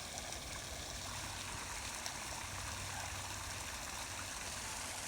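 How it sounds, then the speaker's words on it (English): Water flows out through a culvert pipe under a bridge after afternoon rainstorms, a steady broadband rush that holds evenly throughout at moderate distance, with no voices. "the water can still go underneath that blue thing and go out, because I can hear it going out over there"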